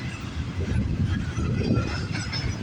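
Canadian National intermodal freight Q101 rolls past from Brampton toward Vancouver, a steady low rumble of railcars with faint wheel clatter, close and continuous without voices.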